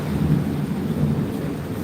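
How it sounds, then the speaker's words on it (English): A thunderstorm in southeast Queensland, with steady rain and a low rumbling thunder roll, heard outdoors as an unbroken wash of noise with no talking. "the second half of this storm that's going on here in southeast Queensland"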